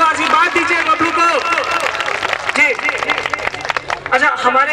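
A large crowd at a village gathering claps loudly and continuously as a boy is welcomed, the applause mixed with voices and music over it.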